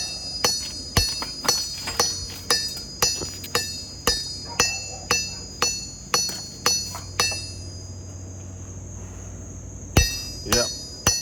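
A hammer's round face strikes hot metal on an anvil while a war hammer is forged, a quick series of bright ringing clanks at an even rhythm, then a pause and a couple more blows.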